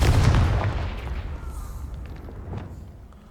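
A Confringo blast spell goes off in Hogwarts Legacy, a single booming impact at the start that decays into a rumbling, fading tail.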